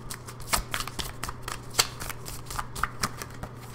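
Tarot cards are shuffled close by in a quick stream of crisp riffling and sliding bursts, with a few sharper snaps among them and no speech.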